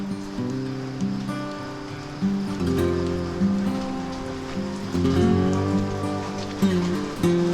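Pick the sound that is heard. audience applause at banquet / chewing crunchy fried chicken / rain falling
rain falling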